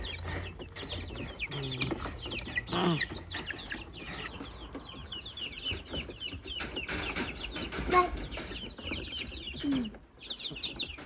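Chickens cluck and squawk nearby in a busy, irregular chorus, with a few sharper calls and some faint voices in the background.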